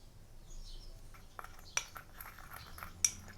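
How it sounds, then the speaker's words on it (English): Ground white pepper, Chinese five-spice and seasonings mixed in a bowl for salt and pepper pork spare ribs: faint, sparse clinks and scrapes of a utensil against the bowl over quiet room tone. "And just combine everything thoroughly."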